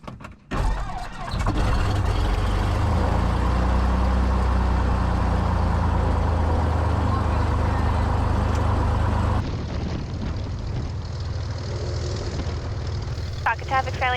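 Cessna 182 Skylane engine droning loud and steady in flight, a constant low roar that drops in level partway through as a voice speaks over it.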